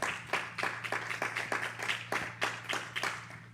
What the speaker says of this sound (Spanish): Dale una ofrenda de palmas al Señor si usted es una ovejita